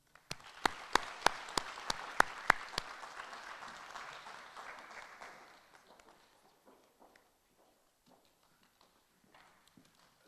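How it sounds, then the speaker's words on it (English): Audience applause at a university postgraduate welcome event, a brief round of close, sharp claps with a wider ripple of clapping behind it, fading out within a few seconds to near silence. "Let's give them another round of applause."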